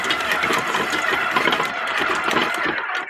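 An electric stand mixer with a paddle attachment beats rolled cookie dough, giving a loud, continuous motor whir with rhythmic thumping and clattering as the dough comes together.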